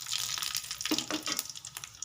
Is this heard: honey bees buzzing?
no